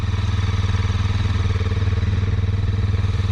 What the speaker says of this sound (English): So just let it idle for several minutes and see if that's registering.